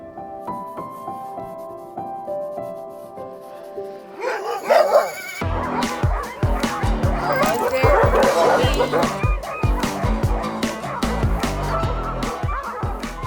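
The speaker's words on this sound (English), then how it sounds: "we are about to go dog sledding, and the dogs are ready to go" Sled dogs bark and yelp in a loud, overlapping commotion right before a dog sledding run in a snowy winter setting, breaking in suddenly after a quieter opening.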